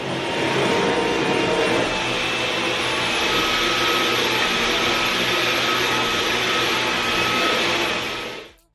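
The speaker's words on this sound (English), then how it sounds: "it just automatically sensed that I went from hardwood to carpet" A cordless vacuum cleaner moves from hardwood floor onto carpet, producing a loud, steady high-pitched suction whine with a slight shift in tone partway through before it winds down at the end.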